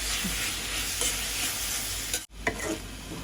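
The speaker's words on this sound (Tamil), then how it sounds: "உப்பு போட்டு நல்லா மிக்ஸ் பண்ணிவிடும்" A sautéed mixture sizzles in a pan as it is stirred after salt is added, with continuous close frying hiss, a few scraping strokes and a momentary break before stirring resumes.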